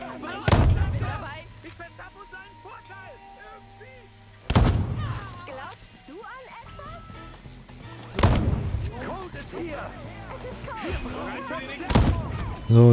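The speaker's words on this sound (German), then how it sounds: "So, die knallen wir hier alle schön mit der Sniper ab." Sniper rifle shots ring out in the video game Deathloop: four loud, booming reports spaced about four seconds apart. A player's voice talks quietly between them.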